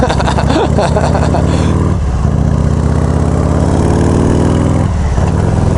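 Motorcycle fitted with a Hammer Performance 1275 kit engine, running steady and loud close by with a couple of brief dips and blips, while a voice talks over it.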